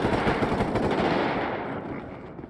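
Automatic gunfire in the GTA V video game with a zombies mod, a rapid continuous burst of machine-gun shots, loud and dense, trailing off slightly at the end, with no talking.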